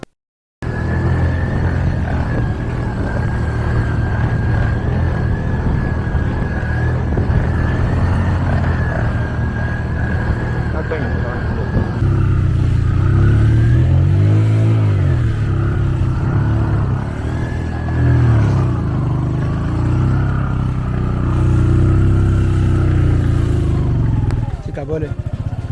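A motorcycle labours through deep sand on a coastal highway, its engine droning loudly and steadily throughout, with revving and pitch swells midway, while a voice talks over it.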